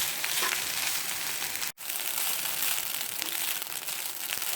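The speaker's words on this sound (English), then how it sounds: "And then fry." Rice with vegetables frying in a pan, Indian-style fried rice, a continuous crackling sizzle with a brief dropout partway through.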